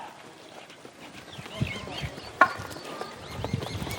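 Buffalo hooves plod along while pulling a cart loaded with wheat, a few soft, irregular thuds in a rural farmyard, partly under voices talking nearby.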